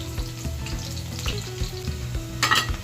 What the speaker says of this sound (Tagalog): prituhin lang natin to mas maganda kasi mga kasyan pag piniprito yung ating carrots at saka yung patatas